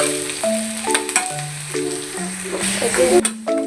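Garlic fries in oil until browned for a sautéed greens dish, giving a steady close sizzle that runs under someone speaking.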